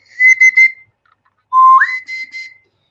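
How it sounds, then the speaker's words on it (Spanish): An open bird whistle sounds two bursts of warbling, trilled notes, the second opening with a rising slide, clear and close against silence. "es un silbato ave"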